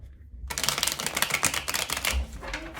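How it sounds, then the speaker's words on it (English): Rapid crisp flutter of a tarot deck being riffled and shuffled close by, a dense run of small snapping taps after a brief quiet start. "Okay, we're going to do one last shuffle."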